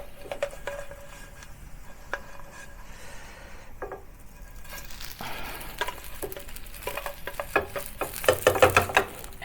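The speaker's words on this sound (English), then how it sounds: "And pan fry the other side until crispy" Hong Kong-style crispy noodles pan-fry in a hot pan with a steady crackling sizzle and spattering pops that build louder toward the end, alongside occasional scrapes of a utensil against the pan.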